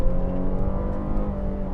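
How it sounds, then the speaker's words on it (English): A 2018 Buick Enclave Avenir SUV engine drones and revs steadily from inside the vehicle, a continuous low rumble with a rising tone as it accelerates on an open road. "You get a lot more engine noise than I was expecting."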